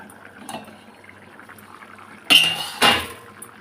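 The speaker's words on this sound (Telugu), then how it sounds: "ఒకసారి మూత తీసి చూద్దాం పులుసు ఎంతవరకు మరిగిందో" Two sharp metallic clanks of a lid being lifted off a pot of dried prawn and taro stew simmering on the stove, sounding close and loud against a soft bubbling background.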